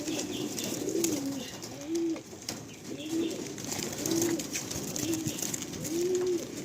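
Pigeons cooing in a loft in Budge Budge on a rainy day, a steady run of soft, low coos repeating about once a second over a hissy background.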